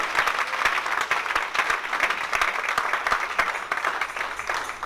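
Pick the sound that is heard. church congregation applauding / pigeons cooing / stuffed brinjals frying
church congregation applauding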